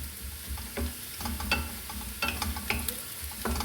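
Pirandai (adamant creeper) sautéing in sesame oil, a soft steady sizzle with intermittent scraping stirs of a spatula, close and moderately quiet.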